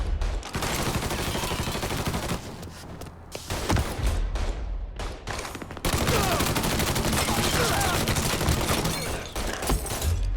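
Dense bursts of automatic and single-shot gunfire from the video game Mafia III, loud and continuous over ten seconds with brief lulls around the third and sixth seconds, thumping impacts mixed in.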